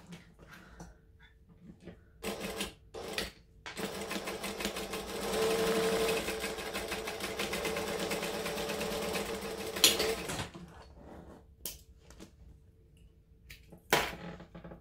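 A sewing machine runs a chain stitch while a clutch bag is made, with a steady whirring mechanical drone for several seconds, preceded and followed by short bursts of stitching and handling clicks, near and moderately loud.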